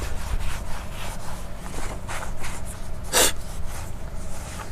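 A clean shop rag buffs dried, pasty car wax off the wheel of a Tahoe SS or Z28, a steady close rubbing swish with one brief louder scrubbing stroke partway through.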